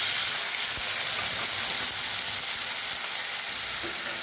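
Tomatoes sizzling as they go into a hot frying pan with garlic and green chillies for a greens dish, a steady loud frying hiss throughout with no talk.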